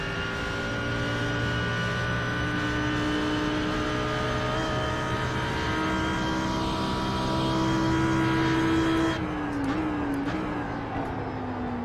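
Audi R8 GT3 race car engine at Bathurst in a racing game, a loud steady drone climbing in pitch through a gear, then an upshift drops the note before it rises again.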